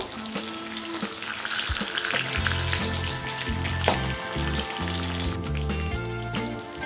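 Whole cashews and onions fry in an oiled pan for a chicken curry, a steady close sizzle with soft stirring scrapes throughout and no voices.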